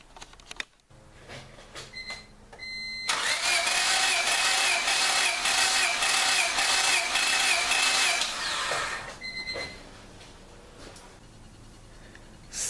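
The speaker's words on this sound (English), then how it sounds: "I'll go crank the engine" A car engine cranks over on the starter during a compression test, a loud steady whirring drone of several seconds after some clicks, then it stops.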